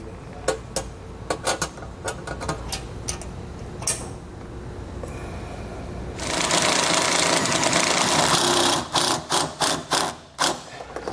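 Two wrenches tighten brake line fittings for a HydraStar hydraulic brake kit on a 2020 Jayco Seismic 5W toy hauler, making close metallic clicks and taps in uneven bursts, with a stretch of steady rushing noise partway through.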